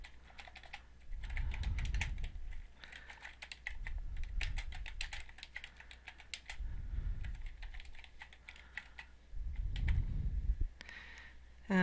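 A macro description being typed on a computer keyboard, quick, light key clicks in a continuous close stream with a few brief pauses, accompanied by soft low thumps, no voices.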